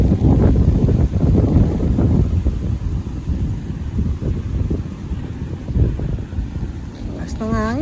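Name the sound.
strong wind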